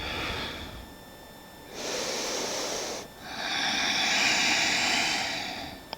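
Close, airy breaths during a yoga practice, a quieter breath followed by a long, steady exhale that fades out slowly, with no talking.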